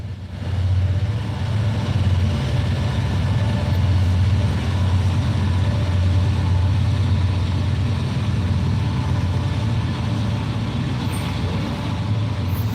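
Heavy trucks and engines rumble loudly past an outdoor fishing spot, a continuous deep drone that stays steady throughout with a hiss of air brakes and no talking.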